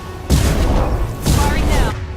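Incineration attack in the Mass Effect 2 video game: two loud, roaring fiery blasts, each lasting about a second, with a short gap between them and a game voice speaking over the action.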